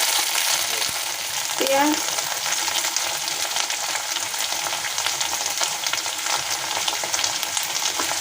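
Okra, potato and onion frying together in hot oil for a quick ladyfinger-potato curry, a steady dense sizzle throughout with a brief stir scrape, a voice speaking once over it.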